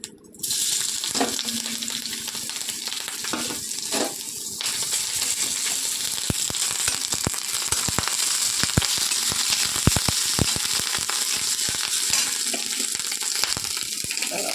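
Chopped chili, garlic and ginger paste tipped into hot oil, frying with a steady loud crackling sizzle throughout after a few brief clatters at the start.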